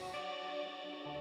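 A sustained synthesizer tone from a Bloom Mura Masa plugin preset, with shimmering, chorus-like harmonics and a plucked, koto-like character, holding steady and moderately loud with no talking.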